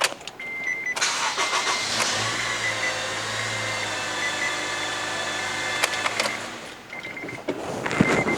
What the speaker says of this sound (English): start the vehicle to cycle through so it gets through the oil filter